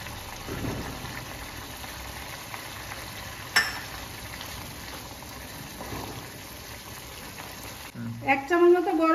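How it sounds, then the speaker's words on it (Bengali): Paneer cooking in half a cup of water in a covered pan gives a steady, soft simmering hiss with light bubbling throughout, a brief clatter partway through and louder stirring or utensil sounds near the end. "আমি ঢাকা দিয়ে কিছুক্ষণ রান্না করে নেবো পনিরটাকে"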